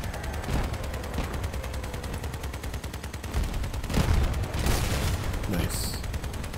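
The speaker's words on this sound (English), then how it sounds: "Oh, better start shooting." Sustained machine-gun fire in the vehicle combat game Crossout, a steady stream of rapid shots with heavier impacts and a brief high ringing tone near the end, voices faintly underneath.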